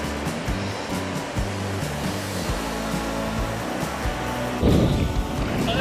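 Ocean waves breaking on a surf beach in Nobeoka, a continuous loud wash of surf with a surge of closer crashing water near the end.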